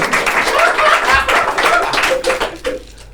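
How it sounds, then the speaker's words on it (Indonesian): Audience at an Indonesian comedy talk show claps, with a dense burst of handclaps that thins out toward the end and has voices mixed in. "bisa tepuk tangan sedikit dong."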